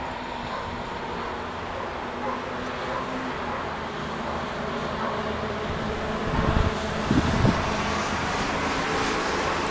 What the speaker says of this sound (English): sorry guys, that was the bus